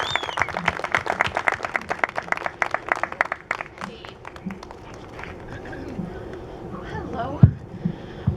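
Crowd claps for Representative Kat Cammack at a dedication ceremony at Dudley Farm State Park: brisk applause for about four seconds that thins out, followed by quieter murmuring and a few voices.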